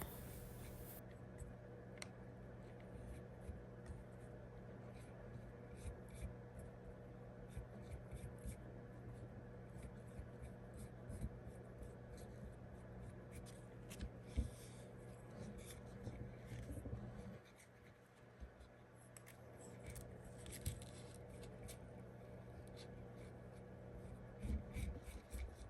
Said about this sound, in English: gently rubbing the paper down, and I'll do that over the entire surface